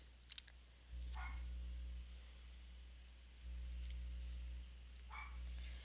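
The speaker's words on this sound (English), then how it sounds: "I apologize for my dog barking." A pet dog barks a few times in a room, short sharp bursts near the start and later, heard over a steady low electrical hum with no one talking.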